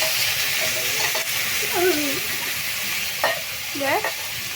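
Premade spice masala frying and sizzling in a hot pan for a chicken dish, with steady broadband hiss, a few stirring scrapes and faint voice-like tones in the background.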